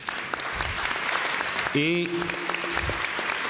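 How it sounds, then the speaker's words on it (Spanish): Audience at an international conference applauding the translators and streaming crew, a steady wash of clapping from a large room that runs throughout, with a voice speaking briefly over it. "Quiero también que aplaudamos a los traductores y a la gente que está haciendo el streaming"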